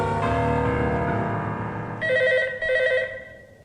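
An indoor landline telephone rings with a steady electronic tone, then two sharper ring bursts follow in quick succession, loud and close with no voices.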